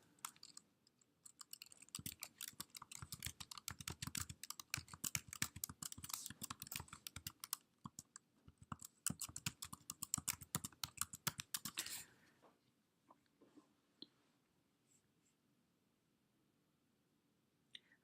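Rapid bursts of keyboard typing, close and crisp, for about twelve seconds, then only a few scattered clicks before falling quiet.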